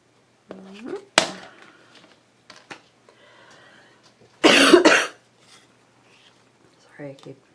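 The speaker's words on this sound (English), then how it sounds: "Sorry, I keep coughing in your ear." A couple of sharp, close coughs break up a quiet stretch, with soft murmured voice sounds and light rustling around them.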